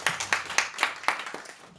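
A small group at a church youth Sunday worship service applauds the worship team with steady, evenly spaced claps that fade slightly toward the end, with no talking.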